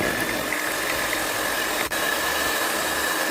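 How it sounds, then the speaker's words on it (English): Electric hand mixer whipping three cups of chilled whipping cream for homemade ice cream, a steady continuous motor whir at slow speed with a brief dip partway through, no talking. "Let us start by whipping the cream for our ice cream."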